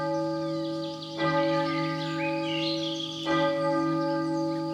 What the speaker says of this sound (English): the prince heard the distant sound of the palace bells